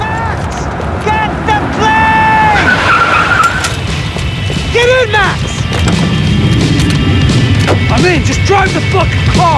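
In the video game Max Payne 3, a car races along with a loud engine and repeated sharp tire squeals and skids, while voices shout over the chase.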